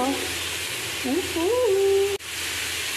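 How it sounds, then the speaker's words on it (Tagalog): Garlic, onion, ground meat and bottle gourd sizzle in a pan with a steady loud frying hiss, while a voice sings over it; a brief clunk of a utensil sounds near the end. "iginisa na natin yung bawang, sibuyas at yung ating giniling"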